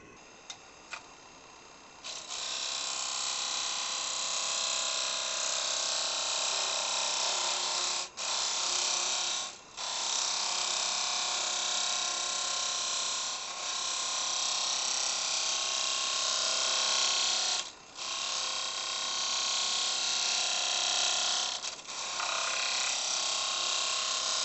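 A wood lathe spins at about 900 RPM while a carbide-tipped tool hollows the inside of a rustic vessel, making a steady loud hiss of cutting. The sound drops out briefly a few times as the tool lifts off the wood.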